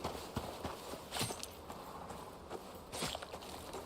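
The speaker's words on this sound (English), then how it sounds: "I hear the horse coming" Soft, uneven thuds of horse hooves clopping closer in a video game, faint and muffled against a low background hiss, with a few sharper hits standing out.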